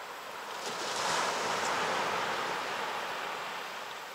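Steady surf rolls onto an empty beach, a broad continuous wash of breaking waves that swells slightly in the middle, with light wind noise and no voices.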